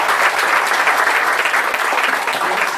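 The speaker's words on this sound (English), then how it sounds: "Let's give a big hand to Representative Andy Jorgensen." An audience gives a big round of applause for Representative Andy Jorgensen, with loud, dense, continuous clapping filling the room from start to finish.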